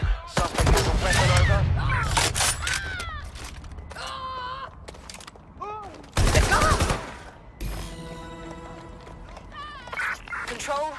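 Shotgun blasts and gunfire crack loudly in two sharp bursts during a police standoff in the game Watch Dogs Legion, between shouted voices and radio chatter.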